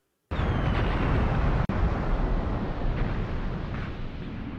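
Missile strikes hit in a war game set in the 1980 battle of Khorramshahr: one sudden, loud blast opens a long, roaring rumble, and a second sharp crack cuts in partway through.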